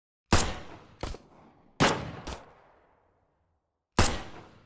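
Five sharp gunshots at a firing range in the indie horror game Point Click Killer, fired in loose pairs and singles with clear gaps, each loud crack trailing off in a decaying echo.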